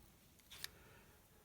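A single quick snip of scissors cutting thread close to knots in leatherwork, brief and crisp, close by against a quiet background.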